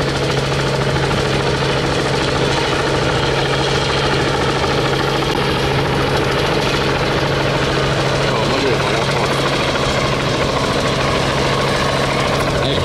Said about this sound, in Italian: il drone ha acceso i motori, sono otto motori, brushless multipoli a basso profilo